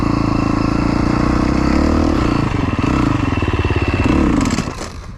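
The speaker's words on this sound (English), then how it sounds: "4-strokes are a little harder for me to ride. Do a little trials wheelie up this." A 4-stroke dirt motorcycle engine roars loud and close throughout, pulsing with throttle changes as the rider lofts a trials wheelie up an incline, then dropping off at the end.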